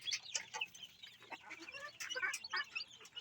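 A hen clucks among her chicks in a screened brooding cage, with low repeated clucks mixed with the higher, busy peeping of many chicks close by, continuous and fairly soft.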